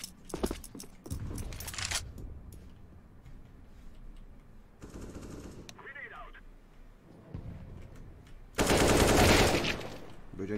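Rapid gunfire bursts in a video game shooter, loud broadband crackles clustered near the start and a heavier sustained burst toward the end, mixed with game effects and background talk.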